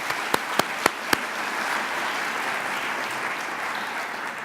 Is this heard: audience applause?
yes